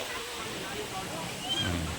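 Napne waterfall in Konkan roars as a steady, dense wash of rushing water, close and continuous, with a low voice briefly audible near the end.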